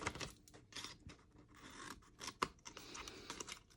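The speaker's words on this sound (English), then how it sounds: "I'm going to cut the corners off, okay? Just cutting an angle." Scissors snip the corners off square paper tabs for a small treat box, a quick series of close, crisp cuts with light paper rustle between them.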